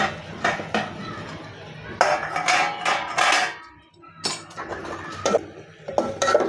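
Metal pot and lid clanking in a kitchen while a cashew masala curry is covered to cook, several sharp clinks and scrapes close by, with a voice talking over them.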